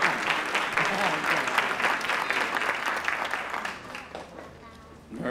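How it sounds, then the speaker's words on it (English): A graduation ceremony audience gives steady, full applause that slowly tapers off near the end, with a few voices mixed into the clapping. "give him a great round of applause"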